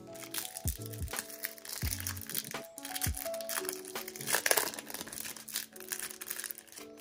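Plastic wrap being peeled and torn off a boxed Rive game for Nintendo Switch, close crinkling and crackling in uneven bursts over a soft musical background, without talk.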